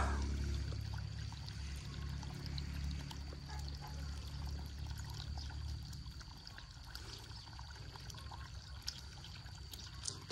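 Water running steadily from an opened tap, a continuous pouring splash over a low background hum, with no talk.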